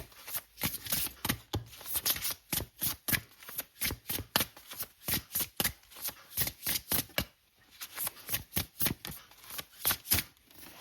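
Tarot cards being shuffled by hand in a steady run of crisp, close riffling bursts with a brief pause partway through, and no talking.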